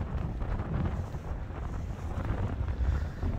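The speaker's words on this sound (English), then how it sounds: "It is windy" Steady wind buffeting the microphone with a low, continuous rumble and no voices.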